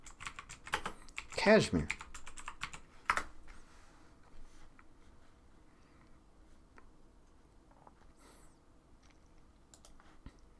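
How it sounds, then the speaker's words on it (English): Typing on a computer keyboard, entering a name into a search box: scattered light key clicks run through the clip at close range, with a spoken voice briefly over them. "Let's go ahead and type Tulsi Gabbard"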